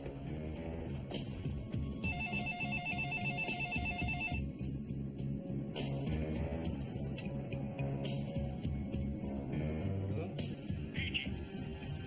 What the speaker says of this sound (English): It wasn't long before Bill Prince did call